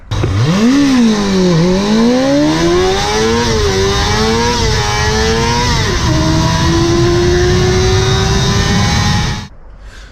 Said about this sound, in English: I'll put up a video of what it was like and what it actually does when the clutch is slipping.